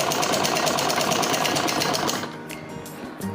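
Sewing machine stitching the inner seam of a suit's lining fabric, running steadily with a fast rattling stitch for about two seconds, then stopping and leaving a quieter pause with a few light clicks.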